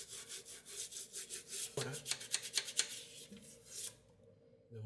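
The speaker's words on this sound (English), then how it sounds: "Scrub the entire area so the vinegar can clean and loosen any rust that isn't too firmly attached" Old toothbrush scrubbing a rusty metal stove burner soaked in vinegar, a run of quick dry bristle strokes that speed into rapid rasping bursts, then stop, with no talk.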